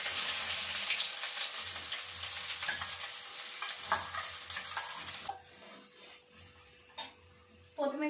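Onions sizzle in hot oil with a steady hissing fry and occasional stirring scrapes, fairly quiet and close, easing off toward the end.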